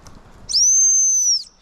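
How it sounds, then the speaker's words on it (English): A single gundog training stop whistle blast: one loud, close, sustained high-pitched tone lasting about a second, sounded alone against a quiet outdoor background. "Stop whistle."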